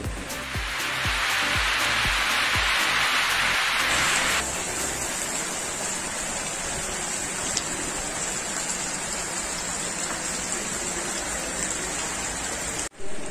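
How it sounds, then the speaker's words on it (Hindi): Heavy rain pours steadily, a dense close hiss that begins very loud, then eases slightly into constant downpour. "बारिश इतनी तेज हो रही है"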